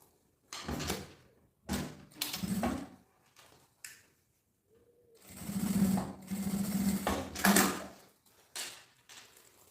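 A sewing machine stitching a seam on a round zippered pouch, running in several short bursts separated by pauses, close and fairly quiet.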